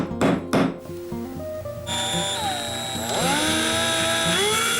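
A power drill whines steadily, its pitch bending as the bit bites into wood, after a couple of short bursts at the start; close and loud.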